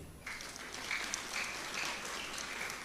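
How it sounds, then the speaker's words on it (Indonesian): Audience applause at a mass wedding ceremony in Jepara, given for the regent: dense, steady clapping starts abruptly and holds at a fairly even, moderate level, like a large crowd clapping from a distance. "Tepuk tangan buat Pak Bupati."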